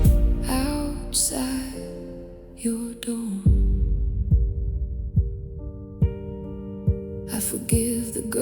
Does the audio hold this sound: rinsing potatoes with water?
no